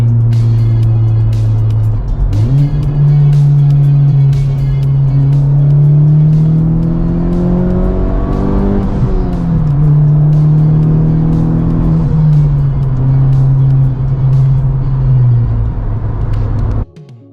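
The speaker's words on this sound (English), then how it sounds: "I wanted to go ahead and do a third gear pull. I'll start from 50." Honda Civic Type R accelerating hard in a third-gear pull from about 50, a loud, steady engine drone rising smoothly in pitch from the cabin, with a brief dip around the middle before climbing again, no talking.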